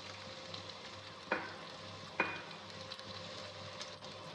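Chicken reshmi kebab pieces frying in oil, a faint steady sizzle broken by two sharp metallic clinks, quiet and close with no talking.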